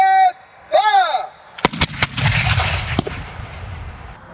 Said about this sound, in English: All guns, prepare to give fire. Give fire!